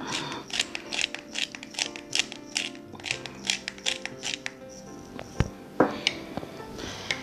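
A pepper mill grinds black pepper over an avocado potato salad, giving a quick series of close, rhythmic ratcheting crunches from several turns, followed by a few scattered clicks and taps.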